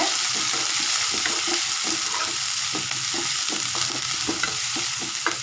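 Prawn thokku masala sautéing in a pan: continuous sizzling under repeated, rhythmic scraping and stirring strokes, close and fairly loud, with no talk.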